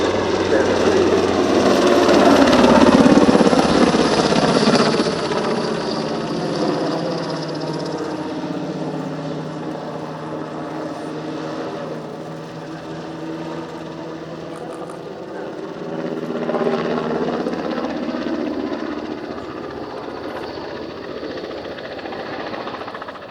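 An NH90 helicopter flying an airshow display at RIAT 2024, its rotor and turbine drone sweeping past with pitch shifting up and down as it moves near and away, loud and continuous with a swell mid-pass.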